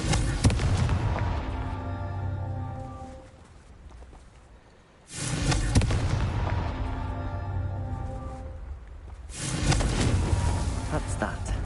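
Broadband blasting-spell explosions from the Hogwarts Legacy video game boom out in repeated heavy bursts, each fading under a sustained rumble and tonal game music before the next blast hits, with a voice speaking between them.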